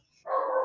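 A dog barks once at close range, a single sharp bark that follows a quiet moment during an evening online talk broadcast from someone's home.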